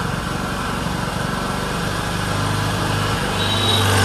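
A motorcycle engine idles during carburettor adjustment, a close, buzzing putter whose pitch shifts and wavers partway through, running on its own with no talk.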